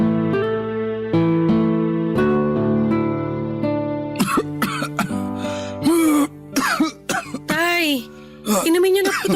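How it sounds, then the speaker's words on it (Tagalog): Sick father coughing in a Filipino audio drama: several harsh, loud coughs and throat clearing in bursts over the second half, with soft music playing underneath. "Kanina pa talaga ako inaatake ng ubo."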